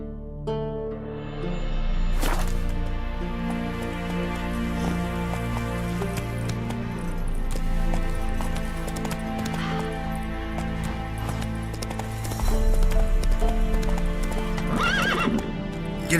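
Hooves clip-clop steadily as a horse gallops in The Witcher 3: Wild Hunt video game, with a loud whinny near the start and heavier hoofbeats building toward the end, set against continuous game music.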